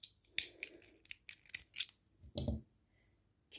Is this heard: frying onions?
no